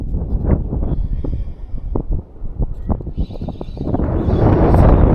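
Steady, blustery wind roars across the water and buffets the microphone, growing stronger toward the end, during a cold May pike-fishing trip on a boat.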